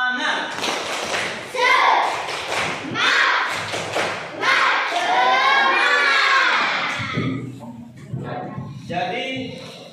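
Sixth-grade schoolchildren in an Indonesian classroom doing a rhythmic clapping chant, loud group clapping in patterned bursts with thumps and children's voices chanting along, close and lively.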